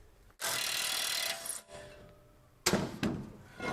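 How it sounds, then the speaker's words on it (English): Rear brake disc on a Range Rover L405 scraping as it slides off the wheel hub studs, a close, loud metallic rasp followed by shorter grinding scrapes and knocks. "Just slide the disc off the studs, and that's it."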